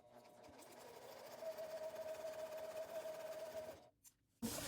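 A sewing machine runs steadily, stitching along the line during foundation paper piecing, a close, even mechanical whir with a faint tonal hum. It keeps going for several seconds, then stops abruptly and is followed by a brief clunk.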